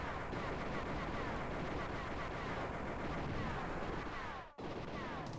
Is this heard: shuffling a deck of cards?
no